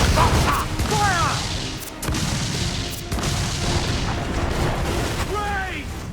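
Ship cannons firing a broadside in Assassin's Creed IV Black Flag, heavy rumbling booms rolling continuously through the clip, with shouted voices over the top.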